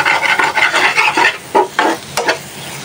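Pumpkin leaves stirred into a frying pan with salted hilsa: a string of scraping, rustling stirs in uneven bursts over a soft sizzle, close and fairly loud, with no talking.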